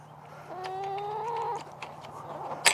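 A hen gives a drawn-out, rising cluck nearby, followed by a few soft scattered clucks and a short sharp squawk at the end, with a steady hum behind.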